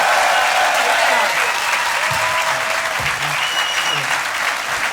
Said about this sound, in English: give a massive round of applause, Rob Brydon!